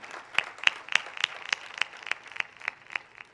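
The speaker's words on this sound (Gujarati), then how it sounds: "આના માટે એકવાર તાળી થઈ જાય." An audience at a Shrimad Bhagavat katha gathering in Surat claps in a steady, evenly spaced rhythm: about a dozen sharp, moderately loud claps with no voices.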